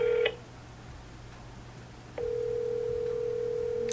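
A short burst of touch-tone dialing on a telephone, then a steady dial tone that holds on loudly and alone as a prank call is placed.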